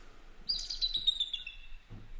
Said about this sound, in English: The eagle.